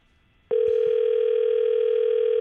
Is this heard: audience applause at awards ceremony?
no